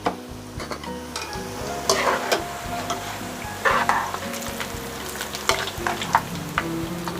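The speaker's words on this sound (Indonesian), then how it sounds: "Selanjutnya bawang putihnya saya goreng utuh ya." Whole garlic cloves fry in hot oil in a large batch for sambal kecap, with a steady loud sizzle and occasional stirring scrapes and clanks against the pan.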